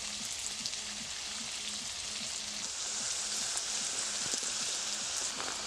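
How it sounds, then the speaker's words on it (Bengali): Homemade tomato chips frying in oil, a steady close crackling sizzle with dense popping bubbles that runs throughout at moderate volume, with no talking. "দেখুন কি সুন্দর চিপসগুলো ভাজা হয়ে যাচ্ছে"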